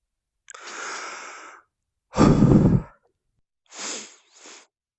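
Darth Vader's mechanical respirator breathing in the VR game Syzygy, three separated breaths: a hissing inhale, a louder rasping exhale, then a shorter two-part breath, close and isolated.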